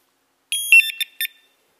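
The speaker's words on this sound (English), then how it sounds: "When motionless for 30 seconds, the TPASS will go into full alarm transmission." A GRACE TPASS3 lone worker monitor emits a short burst of shrill electronic alarm tones as it goes into full alarm, a few rapid high-pitched beeps after silence, loud and with no voices.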